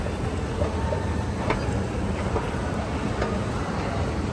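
An Otis NCE escalator at the Marriott Marquis runs during a ride, giving off a steady, even mechanical hum and rumble with faint soft clicks, and no talk over it.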